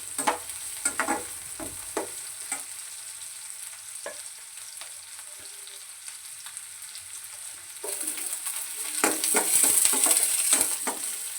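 Onion and green chili sautéing in a pan for red poha upma: a steady soft sizzle with intermittent scraping stirs and clinks of a spatula, the frying growing louder near the end.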